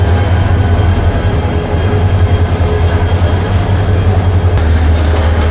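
Steady low rumble of a stationary Bangladeshi train as its locomotive is uncoupled, with a constant engine drone and a faint metallic clank near the end.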